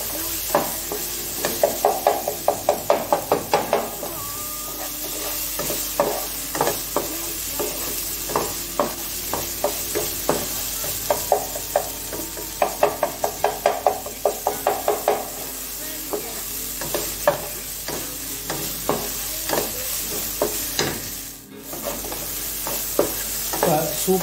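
Mutton blood and onions frying in a pan for a paprika mutton blood fry, with steady sizzling broken by repeated stirring scrapes in bursts, close and fairly loud throughout.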